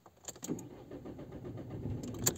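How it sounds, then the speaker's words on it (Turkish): A VW Polo 1.2 TDI diesel engine cranks and catches after a fuel filter replacement, settling into a steady close idle rumble with a few sharp clicks early on and near the end. "evet, motoru rahatlıkla çalıştırdık arkadaşlar"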